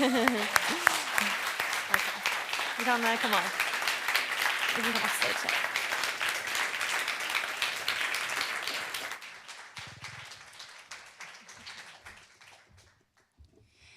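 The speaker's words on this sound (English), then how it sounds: "Another applause, please." A conference audience gives sustained applause to the panelists of a climate justice and drug policy discussion. The applause is loud at first, then thins to scattered claps, while a voice speaks over it.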